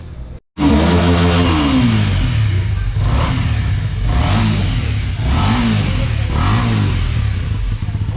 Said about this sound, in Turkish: Bu egzoz sesi de Scrambler tarzına özel bir egzoz sesi.